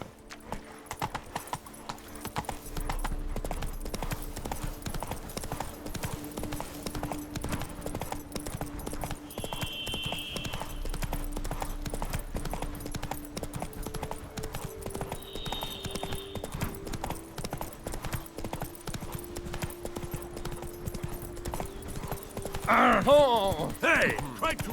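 Roach, a horse in The Witcher video game, gallops steadily with rapid rhythmic hoofbeats throughout, under background game music and a brief whinny-like burst near the end.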